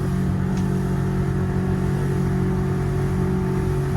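The engine of a Merry Fisher 795 Marlin boat runs at full throttle, around 5,500 RPM at about 32 knots, producing a loud, steady, close roar with a deep rumble that holds constant throughout.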